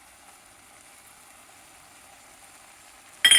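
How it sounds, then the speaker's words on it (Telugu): Egg pulusu frying in a pan, with a faint steady sizzle running alone before a sudden louder burst of crackling at the very end. "చూడండి బాగా వేగుతుంది ఇది."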